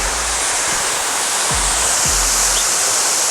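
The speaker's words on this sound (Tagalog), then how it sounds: "Guys, this is the view from the top, from the David Waterfalls." The David Waterfalls at the Ein Gedi oasis rush with a loud, steady roar of falling water heard from the top of the falls, with a few low thumps of wind against the microphone.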